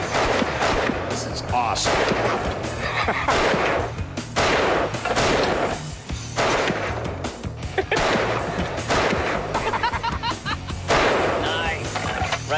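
Nepalese-made Bir machine gun firing, loud close bursts of rapid repeated shots in a dense rattling rhythm across the whole stretch, with brief gaps between bursts and a voice speaking between them.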